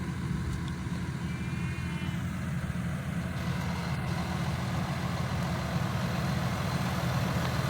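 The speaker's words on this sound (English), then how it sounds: "It's a John Deere 6R155." A John Deere 6R155 tractor engine idles on a farm, a steady low diesel rumble that stays constant and fairly loud throughout with no talking.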